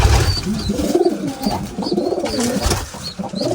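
Pigeons cooing inside a pigeon cage, repeated soft low throaty coos in a steady rhythm, close and fairly loud with faint higher chirps in the background and no talk.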